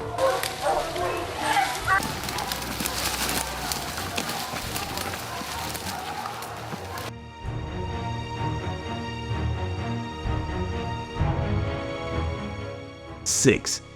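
Hunting dogs bark repeatedly while chasing bears up trees, sharp barks and yips at varying distance in an outdoor setting, with talk running underneath and an abrupt change in the surroundings partway through.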